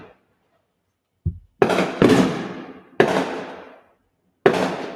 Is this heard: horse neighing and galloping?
no